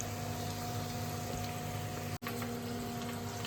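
Onions frying in a pan with turmeric on high flame give a steady, dense sizzle with a constant hum beneath it, broken by one brief dropout, and no talking.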